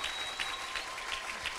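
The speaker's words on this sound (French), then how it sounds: "I think you can clap better than that." A large congregation at a church conference claps steadily throughout, a dense even patter of many hands with no speech over it.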